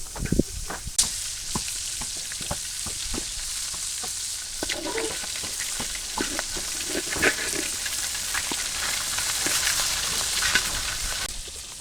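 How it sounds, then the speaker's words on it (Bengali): Hilsa fish fries in a kadai (wok) with a steady close sizzle and hiss, broken by sharp crackles and pops throughout, with no voices. "মাছ ভাজা হয়ে গেছে"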